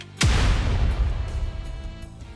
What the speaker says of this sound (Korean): 화려한 녹색의 폭발이 터져나온다